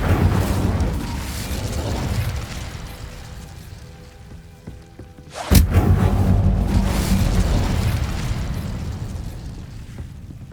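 Incendio fire spell cast in Hogwarts Legacy, a sudden sharp burst midway that opens into a loud, rushing roar of flame over a dense rumbling game soundscape, no speech.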